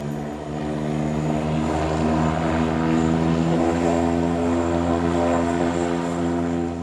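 A rotary propeller aircraft engine, its cylinders spinning with the propeller, drones steadily at close range, a loud, even, throbbing roar that holds without a break.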